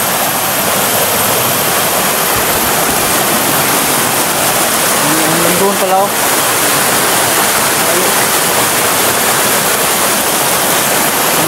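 Mountain stream rushing steadily over rocks, a loud, unbroken wash of flowing water that fills the whole stretch while someone speaks briefly partway through.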